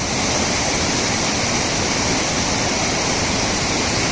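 A powerful river rushes loud and steady where the Gori Ganga meets the Kali, a dense unbroken roar of churning water close by with no voices.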